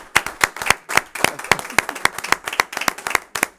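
A church congregation claps in a steady, lively rhythm to acclaim the Lord, sharp close hand claps about three per second, with voices faintly beneath.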